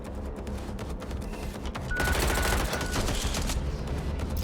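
Rapid gunfire in the video game Watch Dogs Legion: quiet game ambience, then a dense, loud burst of shots from about two seconds in that keeps rattling to the end.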